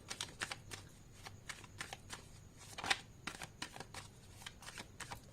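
Tarot cards being shuffled by hand, a quiet series of quick papery riffles and taps repeating in an irregular rhythm, close and with no talking.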